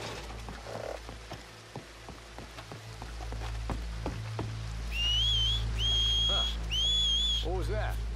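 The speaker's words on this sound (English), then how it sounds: "Make a noise, whistle or something." Two-note human whistles in a Red Dead Redemption 2 mission at Shady Belle, repeated three times in the last few seconds over a low ambient drone, rain-like patter and scattered footstep clicks.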